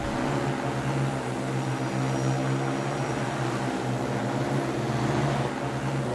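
A Manna delivery drone hovers overhead with a steady, droning propeller buzz and a strong, continuous hum that stays at an even loudness throughout, with no talking.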